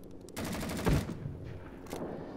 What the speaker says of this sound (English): There seems to be a hit registration sound effect, which I'm not usually a huge fan of in video games.